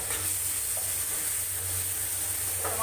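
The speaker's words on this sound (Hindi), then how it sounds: "टमाटर को मैश करते हुए मैं फ्राई कर रही हूँ।" Tomatoes with turmeric and spices frying in a pan for a raw banana bharta, a steady soft sizzle with faint scraping as they are mashed, no voices.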